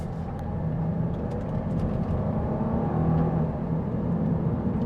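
2025 Kia Carnival LXS minivan accelerating at about a third throttle in sport mode, a steady, fairly quiet engine drone and road whir heard from inside the cabin.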